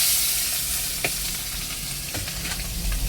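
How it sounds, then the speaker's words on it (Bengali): Tangra fish frying in hot oil in a wok, a steady loud sizzle with crackles and a few sharp pops as pieces go in, no talking. "এবার আমি মাছগুলো আস্তে আস্তে দিয়ে দেবো কড়ার মধ্যে ভাজার জন্য"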